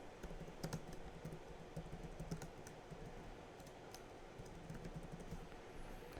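Someone types an address on a computer keyboard, the key clicks coming quietly in a quick, uneven patter with no voices.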